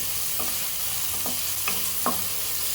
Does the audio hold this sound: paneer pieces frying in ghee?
yes